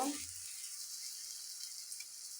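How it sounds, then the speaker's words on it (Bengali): Lentil fritters (dal bora) frying in hot oil, a steady, soft hiss and sizzle running the whole time, with a brief low clatter at the start. "প্রথম বাজতেছি ডালের বড়া"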